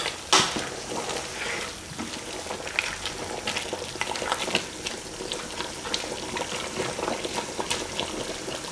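Cantonese lamb stew with potatoes is stirred in a pot, giving a steady bubbling simmer with soft, irregular scrapes and wet clinks of the utensil against the pot. The sounds come from close by and no one speaks.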